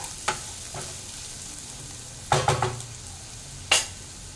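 Boiled Hakka noodles meet softened vegetables in a pan, with a low sizzle running under a few sharp scrapes and clatters of tossing and stirring.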